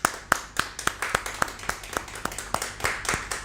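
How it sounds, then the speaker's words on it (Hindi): Sparse, rhythmic hand clapping welcoming a poet at a Hindi kavi sammelan, roughly a dozen crisp claps at a steady pace, fairly close and without voices. "जोरदार तालियों के साथ हम उनका स्वागत करते"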